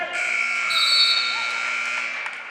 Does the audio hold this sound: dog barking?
no